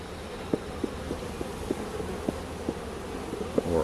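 Honey bees hum softly around an opened hive during a first inspection, a low continuous drone with a few faint ticks and knocks, no talking.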